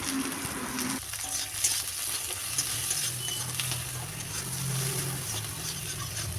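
Tomato, salt, turmeric and sugar are stirred into a shrimp curry with taro stolons frying in a pan, a steady sizzle under clinking spoon scrapes and light metallic taps.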